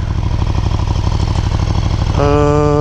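A 2018 KTM 1290 Super Duke R with stock exhaust runs close by, a loud, steady pulsing throb that swells into a higher, harder rev near the end.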